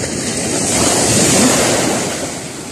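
Ocean waves wash in with a broad rushing roar that swells and recedes, mixed with wind buffeting the microphone.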